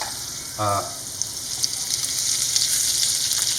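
Oil and butter sizzle in a hot pan, a steady bright crackling hiss that crisps up after a short low thud and holds on at close range with no voices.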